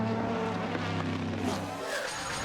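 Two Corvette GT1 race cars running side by side through a bend at the 2008 Petit Le Mans, with a loud, sustained engine roar holding a steady pitch before shifting and thinning toward the end.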